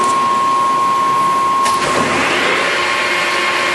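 A Harrison 21-inch by 64-inch centre lathe with a 3-inch spindle bore and a 4-jaw chuck runs its spindle at 400 RPM, giving a steady, even whir with a faint whine that continues unbroken throughout.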